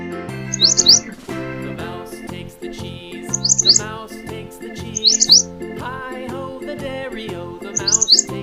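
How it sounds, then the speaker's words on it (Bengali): Short, bright bulbul chirps come in bursts every couple of seconds over a lively, bouncy musical backing. "বয়ে বুলবুলিটির মুখটি কালো।"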